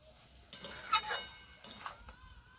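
Ridge gourd and poppy seed paste stir-fried in a pan, two bursts of spatula scraping and clinking with a soft sizzle between them, close and fairly quiet.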